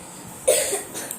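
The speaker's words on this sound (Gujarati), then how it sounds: "મને ખાંસી છે, મટતી નહીં." A single short cough, close and fairly loud, breaking a quiet room.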